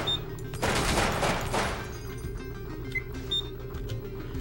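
Turret gunfire in the Receiver video game erupts in a loud rapid burst lasting about a second, followed by scattered fainter shots and metallic clicks.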